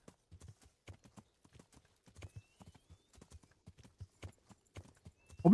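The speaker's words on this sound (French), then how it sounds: "j'ai cru qu'ils me suivaient à cheval" Horse hooves clip-clop faintly and steadily in the Kingdom Come Deliverance video game, with soft irregular hoofbeats at a distance and a louder burst at the very end.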